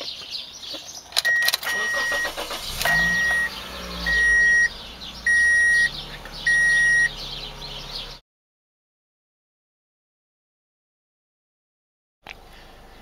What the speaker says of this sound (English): To start the car, first we must press down the clutch and turn on the key, as seen.